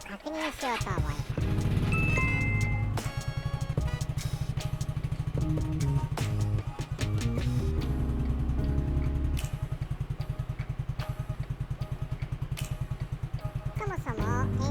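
A Yamaha Majesty 125 scooter with a charging fault idles close by, a steady low rhythmic engine thrum with mechanical clatter that holds throughout the clip and lifts briefly at the start and end.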